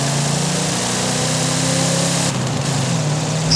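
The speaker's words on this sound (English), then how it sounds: "Yep, this hatchback is V8 powered." V8 engine fitted in a hatchback in the racing game Forza Horizon 5, a steady loud droning engine note holding throughout with a brief dip in pitch near the end, no talking.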